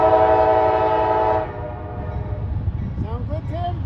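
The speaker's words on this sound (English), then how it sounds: "It's got a nice sounding K5LA on them." A freight locomotive's K5LA air horn blares loud and close in a sustained chord, then cuts off abruptly, leaving the rumble of the passing train while people talk briefly over it.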